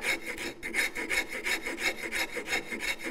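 A rasp files a wooden part of a hand-made frame saw, cleaning up a hollow, in quick, even, close-up strokes, about eight rhythmic scrapes in three seconds.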